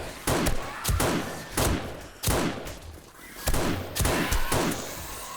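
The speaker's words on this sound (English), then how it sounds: "Well, there's your explosion, Big Al." Explosions in the video game 7 Days to Die, Alpha 18, during horde base testing: a rapid series of heavy booming blasts and thuds, about eight in a row, fairly loud and without speech.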